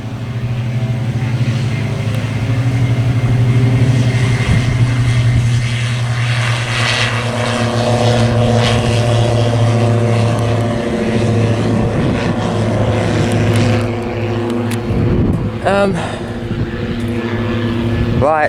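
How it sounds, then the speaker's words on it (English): A propeller airplane takes off at an airport, its engine droning loud and steady with a strong buzzing tone that shifts in pitch as it pulls away, while a voice talks now and then over it. "got a plane taking off"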